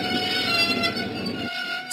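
Steady rumbling run of the diesel engine Diesel in a Thomas the Train video game, a continuous mechanical drone with a tonal hum that drops away near the end, no voices.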